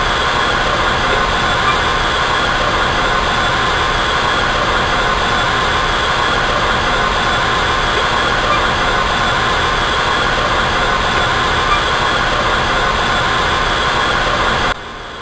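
Locomotive 90 rolls steadily onto the main line at the Strasburg railway, a constant loud rumbling hiss of engine and wheels that holds at the same level the whole time, with no voices.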